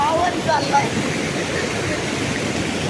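A river near a village runs in a steady, loud broadband rush, continuous and unbroken throughout, with no clear voices over the flow.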